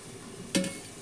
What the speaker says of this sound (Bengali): এই তো চিংড়ি মাছ দিয়ে বেগুন ভাজা, এটা আমি আজকে রান্না করছি